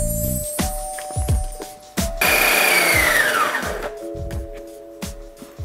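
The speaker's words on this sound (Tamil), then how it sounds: "இப்போ தக்காளியை வந்து நல்லா பேஸ்ட் மாதிரி அரைச்சிக்கலாம்." An electric kitchen blender grinds tomatoes into a paste, starting with several short pulsed bursts, then a loud sustained whir whose pitch sinks as it labors, followed by more stop-start pulses.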